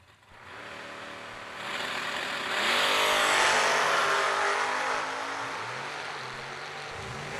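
Drag racing Chevrolet Monza and Camaro cars revving and accelerating, engines building to a loud roar midway, then easing off with repeated gear-change sweeps, no voices.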